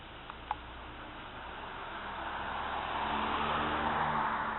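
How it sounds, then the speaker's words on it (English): A car approaches on a residential street with a rising, broad whoosh that grows louder toward the end, passing close by. Two faint ticks sound at the start. "Gotta wait for the car to pass."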